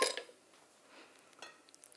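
A few ice cubes drop into a food processor bowl already holding juice and large pineapple chunks, giving a quick, faint clatter at the start followed by softer scattered clinks in a quiet room.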